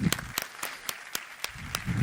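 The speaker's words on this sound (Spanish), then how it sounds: "Nuevamente un aplauso." Scattered applause for panelists at an international maize congress panel on politics and agriculture, a few distinct sharp claps spaced out over a quiet room, moderately close and thinning rather than a full ovation.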